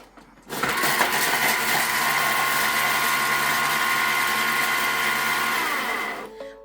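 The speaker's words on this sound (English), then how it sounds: "push next, and it's going to chop for 4 seconds on speed 7" A food processor blade whirs steadily at speed seven for about four seconds, chopping fresh garden rosemary; a loud, even motor drone that starts abruptly and cuts off cleanly.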